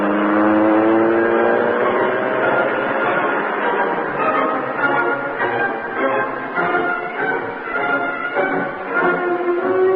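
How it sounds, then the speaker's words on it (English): A car engine roars loudly and steadily, rising in pitch as the vehicle accelerates away, with a sustained harmonic drone filling the whole stretch. "The doors slammed, the motor roared."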